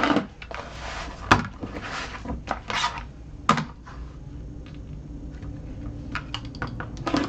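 Straight lines being cut through fabric with a rotary cutter: close, irregular rolling scrapes and soft swishes, punctuated by a few sharp taps, at moderate to faint level with no speech.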